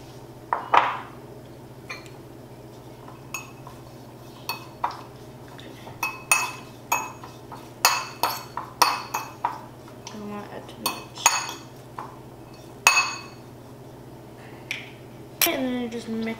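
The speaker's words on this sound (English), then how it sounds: "just mix them all together" Metal utensils scraping and clinking against a dish while tajin and chamoy are stirred together, a string of sharp irregular taps and clanks close up, with people talking now and then.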